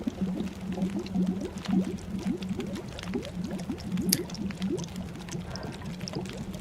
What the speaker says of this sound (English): I love how it sounds like it's boiling before it boils.